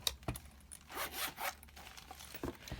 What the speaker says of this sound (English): So this is the zip pocket.